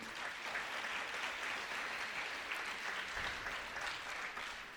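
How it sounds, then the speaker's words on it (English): Applause from a graduation audience at a Faculty of Commerce ceremony, a dense, steady wash of many hands clapping at a moderate distance with no clear voices on top. "give themselves a round of applause and congratulate"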